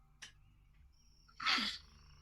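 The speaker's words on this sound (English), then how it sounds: "You have what is called a dad sneeze." A single sharp sneeze bursts out close to the microphone after a brief faint intake, then quiet follows.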